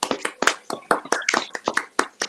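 Applause from a classroom audience of young students after a poem reading: a burst of rapid, uneven hand claps, fairly close and lively, with no talking over it.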